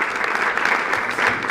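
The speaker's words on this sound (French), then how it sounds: "Et je voudrais qu'on les applaudisse" An audience applauds at the close of a conference panel on African logistics and infrastructure, with steady, dense clapping throughout.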